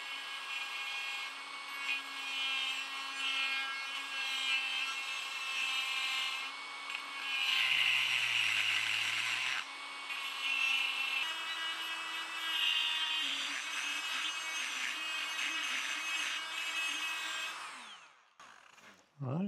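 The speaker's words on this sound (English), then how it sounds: "I'm moving to a die grinder here with a little carbide burr bit in here" A die grinder fitted with a small carbide burr works metal gear parts for a boat's capstan, a steady high-pitched whine with some dips and rises in load, close and continuous before cutting off near the end.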